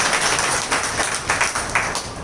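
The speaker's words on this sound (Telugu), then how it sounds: "గట్టిగా చప్పట్లు కొడదాం." An audience claps loudly at a gathering, a dense continuous wash of many hands with some sharper individual claps standing out, close and sustained.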